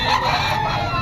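A black Spartan green-legged rooster at a Bocaue pet market gives a short, bright crowing call, close and moderately loud, about a second long amid market hubbub.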